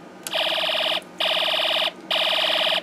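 A loud electronic alarm tone from a Snap Circuits speaker sounds in three steady bursts, each about three-quarters of a second long, separated by short gaps.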